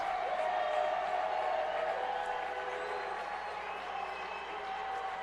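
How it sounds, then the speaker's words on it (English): High school football home crowd at Grants Pass cheering and clapping at moderate distance, a sustained wash of voices and whoops with a drifting whistle-like tone running through it. "Home crowd getting fired up. North Medford crowd also making some noise."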